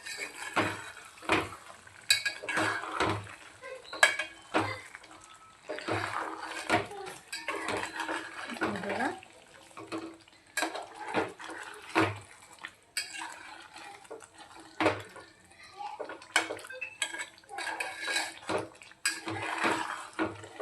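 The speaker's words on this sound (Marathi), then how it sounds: "पाच मिनटानंतर आपण एकदा भाजीला आपण हलवून देऊया" A spoon stirs chicken handi gravy in a cooking pot, making repeated close metallic scrapes and clatters in irregular bursts throughout.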